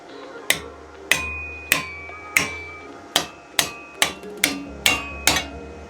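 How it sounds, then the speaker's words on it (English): About ten sharp hammer blows ring out on a welded metal repair on a Nissan 350Z at a steady pace, each strike leaving a brief metallic ring, close and loud. "I guess the true test of the weld, does it withstand the hammer test?"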